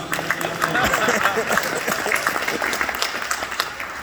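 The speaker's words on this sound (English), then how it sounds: "you can clap your hands" Audience clapping at a ceremony, a dense, steady wash of applause holding at an even loudness throughout, with faint voices mixed in.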